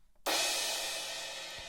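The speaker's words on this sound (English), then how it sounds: "And there's also this crash," A crash cymbal from a pop drum track strikes once and rings out as a loud, bright, sustained wash that slowly fades, alone after a brief quiet start.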